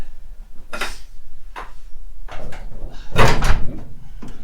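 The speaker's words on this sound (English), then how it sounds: "Let me open the bonnet." A car bonnet being opened by hand produces a few metallic clunks and creaks close by, with a louder thud near the end as the hood is lifted.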